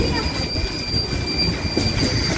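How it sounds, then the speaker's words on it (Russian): A modern Vityaz tram on route 37 passes along the rails on a Moscow street, a continuous loud rolling rumble with a faint high squeal over it. "Смотрите, какой современный трамвай."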